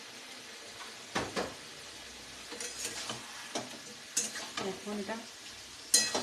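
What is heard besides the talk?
frying spiced paneer chicken curry masala in oil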